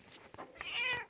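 A female house cat gives a single drawn-out meow, close and clear, rising after a few soft preceding sounds, with no talking over it.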